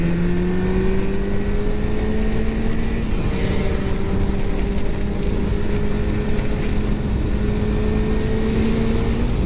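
A small 50cc motorbike engine revving and droning steadily nearby, its pitch climbing slowly and then shifting after a few seconds as the throttle changes, loud and continuous throughout with no voices.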